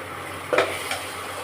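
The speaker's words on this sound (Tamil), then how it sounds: "இப்போ நம்ம தக்காளி போட்டுக்கலாம்." Chopped tomatoes sautéing in a pan for a green peas and mushroom gravy, a soft steady sizzle with two brief stirring scrapes, quiet and without voices.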